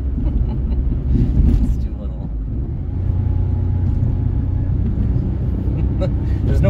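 A 1996 Daihatsu Mira TRXX Avanzato climbs a hill in fourth gear, its engine and road noise a continuous low rumble heard from inside the cabin while people talk over it.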